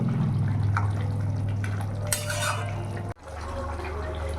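Fried silver carp pieces go into a pot of boiling curry gravy, bringing a steady close bubbling and liquid churn with light utensil clinks, then a brief sharp dip before the simmering resumes.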